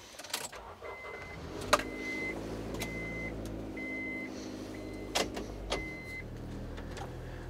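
A 1998 Honda CR-V EX with Real Time 4WD rolls forward, its engine giving a steady low hum with a few clicks and thumps from the cabin.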